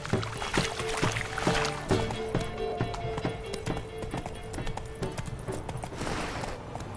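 Horse hooves pound in a steady galloping clip-clop in The Witcher Wild Hunt, a rhythmic run of repeated beats that carries on under a low musical drone, close and prominent throughout with no talk over it.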